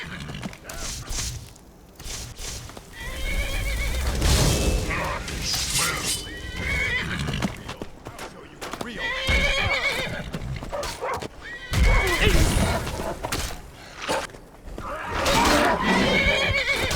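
Horse in Skyrim neighs and whinnies repeatedly, with clip-clopping hooves mixed in, loud and close under excited talk from a player.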